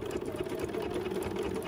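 Sewing machine stitching a crazy quilt, a steady low mechanical drone with fine rapid needle pulses, continuous and fairly quiet.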